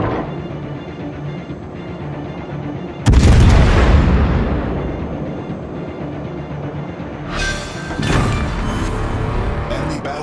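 Naval gunfire in a warship video game: a heavy booming blast hits about three seconds in and rolls out over a steady engine rumble, with a second, smaller burst near eight seconds.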